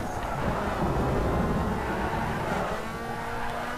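A car drifts in the racing game Need for Speed Underground 2, with the engine roaring loud and steady over a continuous screech of sliding tires.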